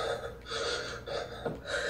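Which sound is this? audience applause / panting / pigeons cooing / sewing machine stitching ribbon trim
panting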